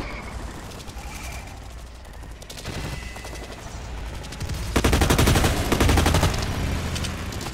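Rapid gunfire bursts crackle through a first-person shooter match in Blacklight Retribution, building to denser, louder automatic fire toward the end with no talk over it.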